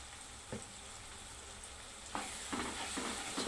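Mixed vegetable bhaji with turmeric sizzles gently in a pan, a quiet steady frying hiss with soft stirring scrapes growing busier toward the end, with no speech.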